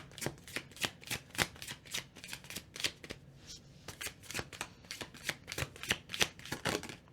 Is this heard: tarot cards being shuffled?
yes